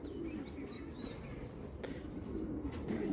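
A pigeon coos softly in a low continuous murmur, with a few thin chirps over it and no voices, the sound fairly faint throughout.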